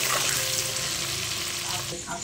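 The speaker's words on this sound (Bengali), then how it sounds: "আলুটা একটু ভেজে নেব, একটু লবণ দিয়ে দিলাম, আর একটু হলুদ দিয়ে দিলাম, দিয়ে একটু ভেজে নেব আলুটা" Potato pieces fry with salt and turmeric, a dense, loud sizzle holding steady throughout, with faint stirring movement underneath.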